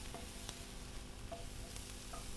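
Food stirred over fairly high heat in a heavy-based saucepan: a faint, steady sizzle with soft scraping strokes and a few light taps of the spoon, quiet and close with no voices.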